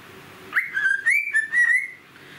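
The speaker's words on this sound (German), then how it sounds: "Steffi und ihr Vögelchen" A pet bird whistles close by in a quick run of clear, bright chirping notes lasting about a second and a half, followed by quiet room air.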